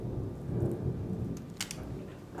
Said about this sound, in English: sorry if y'all can hear that thunder and stuff in my background